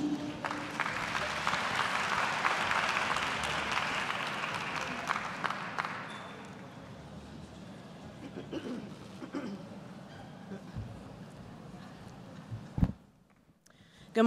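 Applause from an audience at a national maternal and infant health summit, a full wash of clapping for about six seconds that fades out into quiet room noise, scattered thumps and a brief loud bump near the end.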